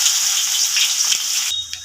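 Finely chopped onions hitting hot oil tempered with fenugreek, cumin and mustard seeds: a loud, close burst of crackling sizzle that cuts off abruptly near the end.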